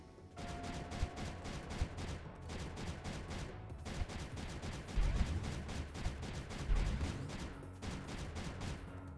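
Cannons fire continuously in the strategy game Creeper World 3, a dense, rapid stream of crackling shots and thuds with no let-up, fairly quiet and with no talk.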